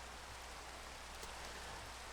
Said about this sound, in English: here we're in a biome where it's raining